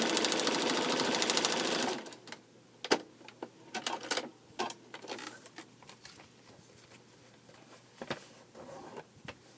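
A 1986 sewing machine stitches a quilt block in a busy burst for about two seconds, then stops, leaving scattered clicks and handling taps close by.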